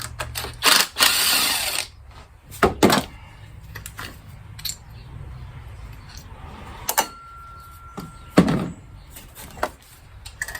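Ignition control module being unbolted and lifted off a 2004 Buick LeSabre engine, with scattered close clicks, plastic clunks and tool knocks in an irregular sequence, plus one short steady tone near the end.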